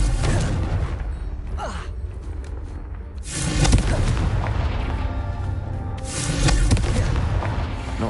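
Loud blast from the Confringo fire spell in Hogwarts Legacy, booming at about 3.5 seconds and again near 6 seconds, each followed by a rumbling, crackling tail over continuous low game ambience.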